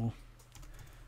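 Faint, quick keystrokes on a computer keyboard while filling in a spreadsheet in Excel 2013, soft and close under a quiet background.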